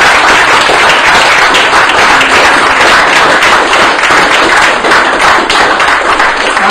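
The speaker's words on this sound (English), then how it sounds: "will you please give a massive round of applause to Jonathan?" A debate audience gives a speaker loud, sustained applause, many hands clapping densely and evenly throughout without letting up.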